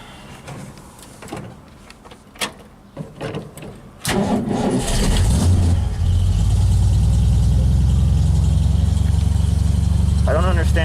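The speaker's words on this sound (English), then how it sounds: "So we're going to see if this hoopty will fire up." A carbureted vintage Ford Mustang hot rod, choked on a cool morning around 55 degrees, cranks and fires at about four seconds, then settles into a loud, steady close-up idle after a few earlier clanks and voices.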